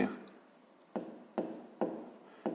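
Pen or marker strokes on paper while working out a fifth-grade fraction subtraction problem, four short scratchy bursts at an uneven pace, close and quiet.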